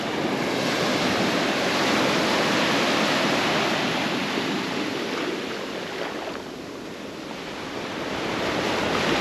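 Ocean waves washing onto a beach in St Maarten, a loud, steady broadband roar of surf with a slight dip and swell midway, wind rushing across the microphone and no voices.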